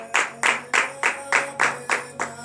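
A congregation claps in unison during a morning prayer service in Benin, with eight sharp, evenly spaced claps in a quick steady rhythm, close and clear.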